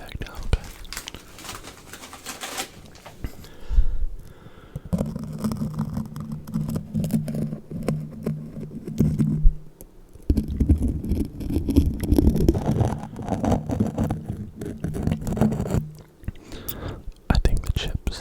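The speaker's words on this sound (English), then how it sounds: "I think the chip makes good sounds" Close ASMR crinkling and crunchy bites as a chip is handled and eaten, with a plastic bag rustling and soft mouth sounds, broken up by faint murmured speech.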